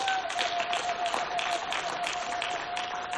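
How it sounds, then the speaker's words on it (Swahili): A church congregation claps together during a prayer and fasting service, dense and sustained clapping throughout with a faint steady tone underneath. "Pigie Bwana Yesu makofi."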